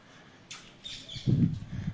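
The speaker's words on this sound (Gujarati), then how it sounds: "પક્ષીઓનો મીઠો મધુરો કલરવ સંભળાય છે" Birds chirp at a bird feeder on a village temple in the morning, giving a few brief, bright calls over a faint rural background with a low murmur near the end.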